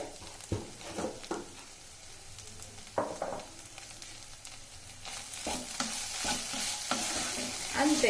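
Pickle being stirred and mixed into flattened rice in a bowl, a string of soft scraping and knocking strokes from a spoon, irregular and fairly close, without talk.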